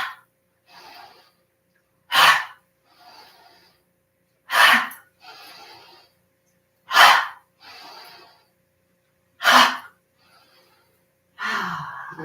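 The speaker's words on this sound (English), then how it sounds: "we're going to finish off with 5 big out breaths that make that sound" During a yoga breathing exercise, a person gives about five big, forceful audible out-breaths at regular intervals, each a loud, close rush of air, with softer inhales between them.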